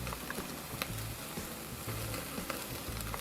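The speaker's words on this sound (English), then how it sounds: "Nothing like putting a good sear on your steak." A ribeye steak sears in a hot pan, giving a loud, dense, continuous sizzle heard up close with no voices.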